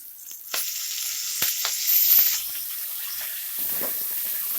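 Chopped spinach (palak) dropped into sizzling oil for Andhra-style palak pappu, a sharp burst of frying hiss with a few knocks as it lands, then a steady close crackle.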